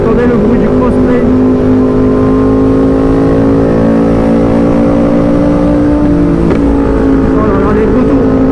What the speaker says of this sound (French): Vous entendez le bruit du crossplane?